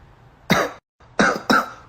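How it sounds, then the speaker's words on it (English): Three sharp coughs, one then a pause followed by two in quick succession, close and fairly loud. "Cough, cough."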